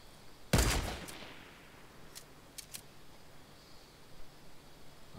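A single loud, close gunshot in a shooter video game, a sharp crack with a decaying tail, followed by a few faint distant shots and quiet background noise.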